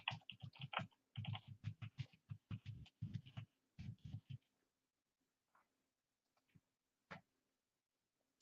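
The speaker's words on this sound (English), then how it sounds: "I'm typing to make it think people are working on making sounds and things." Quick bursts of keystrokes on a computer keyboard, close and fairly loud for about four seconds, then tapering into a few scattered isolated clicks amid near silence.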